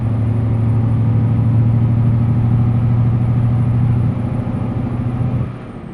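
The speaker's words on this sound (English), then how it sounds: "This one's it's got the older motor in it. It's a little louder, they said." A simulated older-motor semi truck engine in American Truck Simulator runs at a steady, loud, low-pitched drone, holding even for about four seconds before easing slightly and then dropping away near the end; no one speaks.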